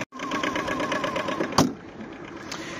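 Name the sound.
Aixam GTO diesel engine idling with bonnet closed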